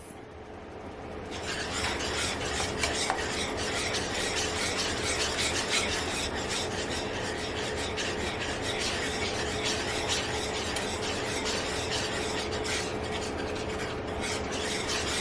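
A spoon scraping and stirring shrimp scampi filling in a pan, continuous close rasping and rubbing with rapid irregular scrapes starting after a short quieter moment and carrying on steadily.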